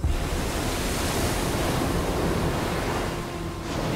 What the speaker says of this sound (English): a swell is smashing waves against the coastline